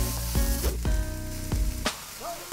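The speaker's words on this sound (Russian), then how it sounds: "А на место колбасы отправляются овощи. И вот их надо поджарить как следует." Vegetables sizzle and crackle steadily in a large hot pan, with a few brief clanks of a utensil stirring them.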